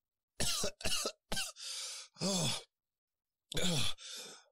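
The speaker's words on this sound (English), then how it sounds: "I coughed over and over." Several harsh coughs in a quick burst, followed by strained breathy sighs and another cough, close and isolated against silence.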